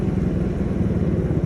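A worn knuckle bearing on a 2013 motorcycle gives off a steady low mechanical rumble, close and continuous for a moment with no voices.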